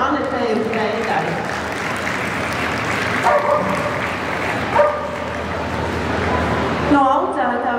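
A crowd applauds at a dog breed demonstration at ZooExpo, the clapping sustained and fairly close while a dog yips and barks and a voice talks over it.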